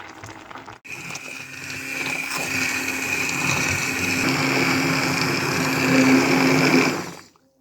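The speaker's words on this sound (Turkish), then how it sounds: "Şimdi blenderdan geçireceğim." A blender purees a cooked sauce, whirring loudly and steadily for several seconds after a brief start, its motor holding a high, even whine before cutting off.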